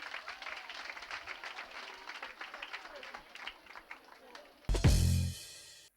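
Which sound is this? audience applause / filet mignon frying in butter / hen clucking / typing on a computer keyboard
audience applause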